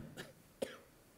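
A speaker with a winter allergy coughs twice during a church sermon and Bible reading: two short, dry coughs, faint and close, about half a second apart, with no talk over them.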